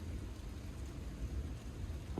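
Steady rain pours during a mountain storm, a dense continuous hiss with low rumbling, heard close while sheltering beneath an overhanging rock, with no voices.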